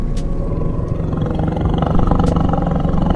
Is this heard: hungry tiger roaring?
yes